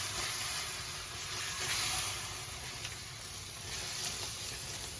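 Beef sizzles in a hot pan for a stir fry, a continuous close hiss with gentle swells and a few faint clicks as it cooks, no speech over it.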